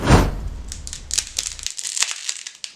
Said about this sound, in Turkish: spagettilerimi kırıyorum.